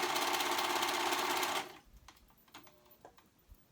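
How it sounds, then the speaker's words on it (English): A serger stitching along a fabric edge while sewing a ruched tee, running as a fast, steady mechanical whir for about a second and a half before stopping, followed by faint clicks and handling noises. "And now I'm gonna go ahead and serge to the edge."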